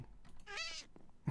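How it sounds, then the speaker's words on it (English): A cat lets out one short, faint meow, rising then falling, with a soft thump just after. "Looks like Jaded Cat decided to join us and pay a visit."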